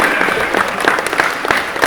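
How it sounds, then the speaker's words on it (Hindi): A crowd at a poetry gathering applauds loudly for a mother, a dense, steady wash of clapping that fills the whole stretch without a break. "मां के लिए एक बार जोरदार तालियां"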